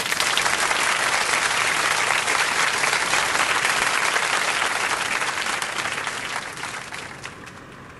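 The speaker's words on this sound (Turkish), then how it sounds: "Onlara da bir alkış." Sustained applause from a crowd for the police during a curfew, dense steady clapping that gradually fades toward the end.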